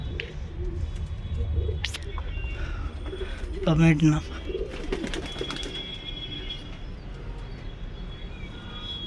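Common pigeons coo softly in a loft amid steady background noise, with one louder, brief burst of cooing in the middle while someone talks over part of it.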